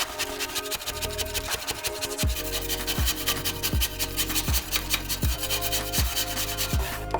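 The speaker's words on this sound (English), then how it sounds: "Using spatula, we scraped it off" Spatula scraping dried, sponge-like, crumbly concentrate off a tray: continuous close, gritty scraping with regular rhythmic strokes about every three-quarters of a second, loud and alone with no talk.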